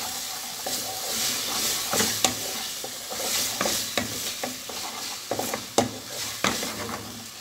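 Garlic and chili paste being stirred as they fry in a pan for a beef stew, with a steady sizzle under repeated scraping clicks of a utensil against the pan, close and moderately loud, no talking.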